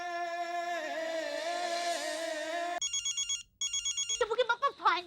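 Indoor telephone ringing in a steady warbling tone, then breaking into short repeated electronic beeps of the ringer before a brief voice sounds at the end.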